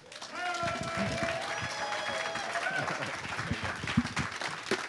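Audience at a corporate event applauds the introduction of a new president of field development, dense clapping swelling quickly and continuing steadily, with a voice speaking over it.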